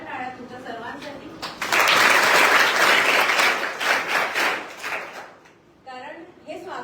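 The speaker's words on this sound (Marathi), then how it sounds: "तर एकदा जोरदार टाळ्या तुमच्या सर्वांसाठी" A crowd at a municipal school reading-corner event bursts into applause, a dense close roar of clapping that holds for several seconds, thins out, then rises again briefly, with no speech over it.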